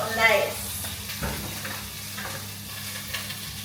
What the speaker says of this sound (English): the veggies is cooking up nice